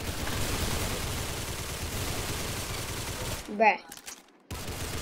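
Rapid gunfire in a shooter video game, dense automatic bursts rattling continuously, cutting out briefly while a voice speaks, then resuming.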